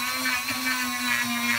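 A small Dremel rotary tool grinds steadily at high speed on part edges during a Norton Commando 750 restoration, a close, continuous whine with no talk.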